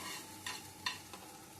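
Raw shrimp stirred in hot oil in a pan, a soft steady sizzle broken by three brief scraping strokes of the spatula.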